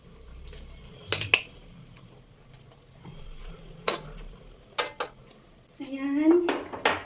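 A utensil stirs pork and sautéed vegetables in a metal pot for pork pochero, making scattered clanks and scrapes against the pot. A voice speaks briefly near the end.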